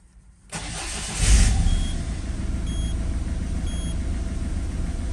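A Citroën Berlingo's DV6 diesel engine cranks briefly and catches, then settles into a steady, close idle with a low rumble and faint high electronic tones.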